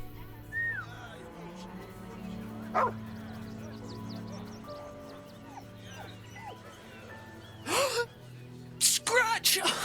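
Scratch, a dog in the video game Baldur's Gate 3, gives short barks and yips under character dialogue, with a louder burst of barking near the end.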